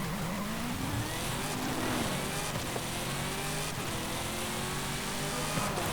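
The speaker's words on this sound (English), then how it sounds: "there's the really rather loud supercharger on the go" The supercharger on a 2022 Fast & Furious Dodge Charger SRT Hellcat Redeye Widebody whines steadily under hard acceleration, a continuous rising engine roar with wind noise, heard from inside the car with no talking.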